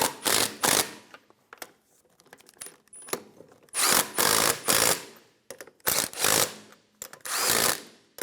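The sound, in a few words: ratchet snugging down lug nuts on Infiniti G35 wheel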